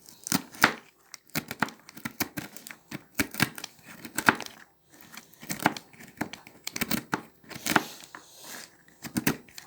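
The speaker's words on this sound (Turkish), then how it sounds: "cevizi nasıl doğruyorsunuz Arif Hanım diye sorarsanız arkadaşlar şöyle göstereyim inşallah. Ben böyle doğruyorum." A knife chops walnuts on a board in quick, uneven bursts of sharp cracks and crunches, with short pauses between runs of strokes.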